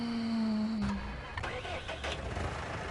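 A tractor engine in Farming Simulator 19 hums steadily at idle, then drops and winds down as it shuts off, leaving scattered mechanical clunks and a quieter game background.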